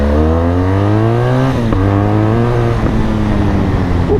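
BMW motorcycle accelerating hard, its engine note climbing through gears with brief dips at each shift, loud and close throughout.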